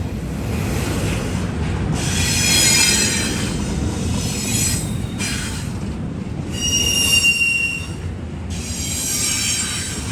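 A freight train rolls slowly, about 20 mph, around a curve, its wheels squealing in high, sustained shrieks that come and go over a steady rumble of railcars.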